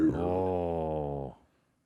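A voice mimics an elk's grunting call with one low, drawn-out, droning groan. It is close and steady for over a second, then cuts off abruptly.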